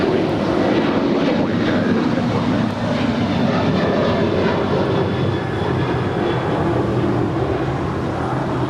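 United airliner taking off from runway 25 right at Los Angeles LAX, a steady loud broadband jet roar that holds constant throughout.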